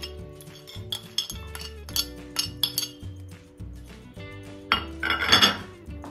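A spoon clinks and scrapes against a metal pot as roasted almond and cashew pieces are mixed into a sticky coconut filling. The taps are bright and irregular and come in close bursts.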